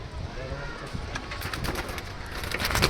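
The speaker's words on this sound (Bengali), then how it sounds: "দাদা পায়রা উড়িয়ে দিয়েছে, অনেকটাই ডিপে চলে গেছে পায়রা" A racing pigeon is released and flutters off in a rapid burst of wingbeats, with other pigeons cooing nearby over steady outdoor background noise.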